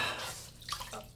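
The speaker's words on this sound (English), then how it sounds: "Just wring a little bit of this water out of it." Water wrung from a hot towel before a shave drips and splashes, with a brief squeeze of running water followed by a few scattered drips.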